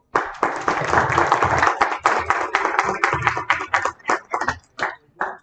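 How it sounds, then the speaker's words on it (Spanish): Moderate applause from an audience at an environmental education congress, a cluster of hands clapping that thins out into a few scattered claps near the end. "Le cedo la palabra y un aplauso, por favor."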